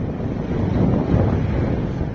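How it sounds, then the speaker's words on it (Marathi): Strong wind on the road from Leh to Pangong buffeting the microphone in a loud, continuous low roar that swells slightly midway, no voices. "त्यात वाऱ्याने आपली गती पकडलेली आहे"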